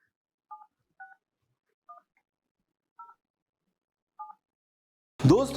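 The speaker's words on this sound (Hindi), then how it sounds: "ये नंबर डायल कर रहे हैं हम लोग" Five separate keypad tones of a phone number being dialed, each short and clear against silence, spaced irregularly, followed at the end by a burst of a voice speaking.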